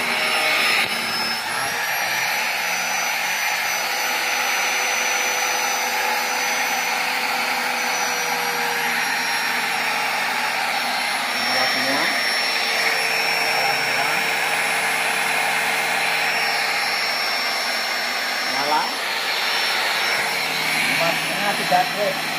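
Electric angle grinder running steadily on a 900 W household supply with an anti-trip device, a continuous loud high-pitched whine with a few brief dips in load.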